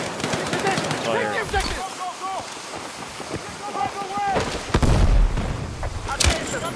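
Gunfire in the video game Battlefield 6 crackles in bursts of machine-gun rattle and heavier booms against wind and vehicle rumble, with voices talking over parts of it.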